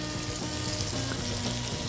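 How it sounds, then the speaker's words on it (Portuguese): Oxtail pieces dusted in wheat flour fry in a pan with a steady, close sizzle and crackle that holds for the whole of the short stretch. "Eu vou deixar a carne aqui fritando por um minutinho"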